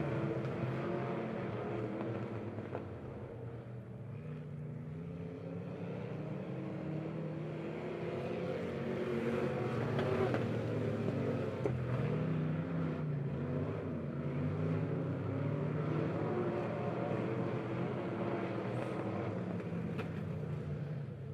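Race cars circling an oval track at Lebanon Midway, heard as a continuous distant roar of engines that rises and falls as the pack passes, with no voices.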